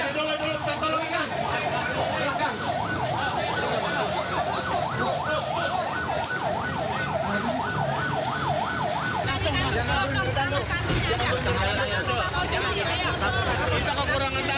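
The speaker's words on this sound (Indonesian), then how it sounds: "Banyak ambulan belakang. Ambulan banyak belakang." Ambulance sirens wail steadily at a train crash scene, one warbling siren cycling rapidly and then shifting pattern, over loud crowd babble and shouting.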